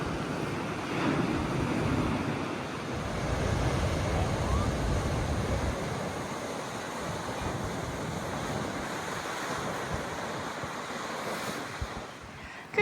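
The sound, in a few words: ocean waves and surf on the Western Cape shore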